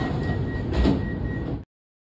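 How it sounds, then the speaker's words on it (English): MRT train sliding doors close with a continuous mechanical whoosh and a faint steady warning tone, ending in an abrupt stop; no talk. "Doors are closing."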